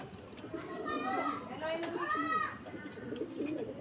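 Racing pigeons cooing as they return from a long-distance race from Samar, soft repeated coos mixed with people talking nearby.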